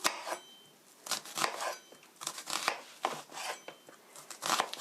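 A knife chops half an onion on a cutting board for an orange chicken sauce, with quick, uneven strokes landing close by in short bursts and no one talking.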